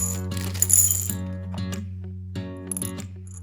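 Pink vintage plastic beads poured into a bowl, giving a bright clattering rattle followed by a few scattered light clicks and taps, close and fairly quiet over a steady low hum.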